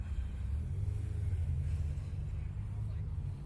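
A BMW M6 V10 rumbles at a car meet as a faint, low, continuous growl, steady and somewhat distant, with murmuring voices in the background.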